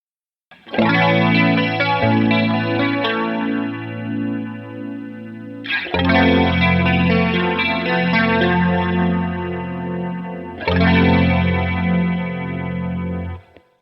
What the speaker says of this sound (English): It's a particularly nice chorus.